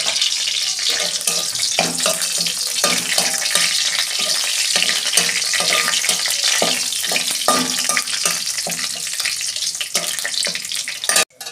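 Whole bay leaf, cardamom, cinnamon and cloves fry in hot oil in a kadai, making a continuous bright sizzle broken by repeated clicks and stirring scrapes.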